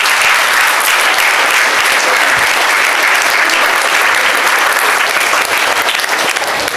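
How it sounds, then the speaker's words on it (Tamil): A school audience claps loudly and steadily at an Independence Day celebration, a dense, continuous burst of applause from a large crowd with no pause throughout. "அவருக்கு ஒரு கைதட்டு கொடுக்க பார்ப்போம்."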